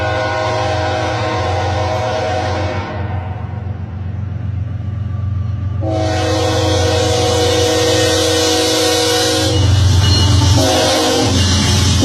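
A freight train rolls past close by, a loud steady rumble of wagons under repeated long blasts of its horn, which cut out briefly midway and then return.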